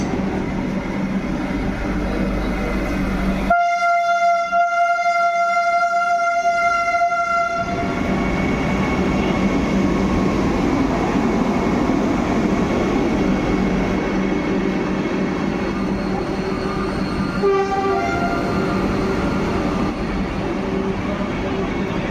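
An Ernakulam–Bangalore Cantonment express sounds a long, loud horn at a station platform as it departs, with a steady rumble of wheels and engine running throughout.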